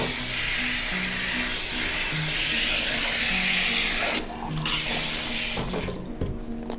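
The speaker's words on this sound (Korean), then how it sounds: "미온수로 한번 꼼꼼히 헹궈 보도록 할게요." Lukewarm water runs steadily from a tap while hair is rinsed after a treatment, a loud continuous spray whose splashing shifts and briefly thins near the end as the stream is moved.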